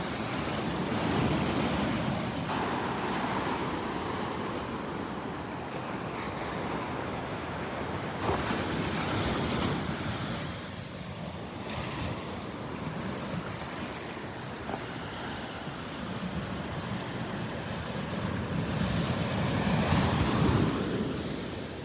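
Ocean waves crash on the beach at Naples, Florida in a continuous broad surf roar that swells and recedes, with wind buffeting the microphone and no talking.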